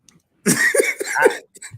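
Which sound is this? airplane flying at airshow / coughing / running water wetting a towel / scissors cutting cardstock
coughing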